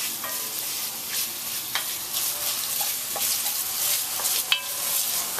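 Onions and carrots sauté in a pan with a steady broadband sizzle, broken by occasional clicks and scrapes of stirring; close, no voices.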